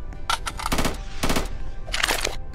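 Bursts of rapid gunfire in the Roblox shooter Strucid, three quick loud volleys separated by brief gaps.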